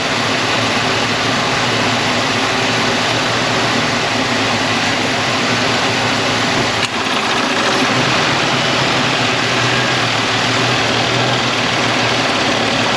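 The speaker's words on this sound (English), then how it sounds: "So you turn the air on, touch the gas, and then it shows you where your idle's at." A Honda engine idles steadily with the air conditioning running, a loud, close, continuous hum and whir that holds even throughout, with one brief click partway through.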